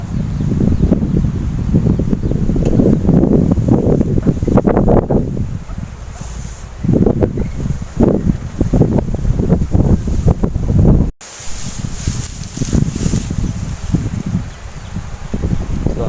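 Cold December wind blows steadily across an open rice field with a small farm hut, a broad rushing roar close to the microphone with gusts buffeting it throughout and a brief break near the end.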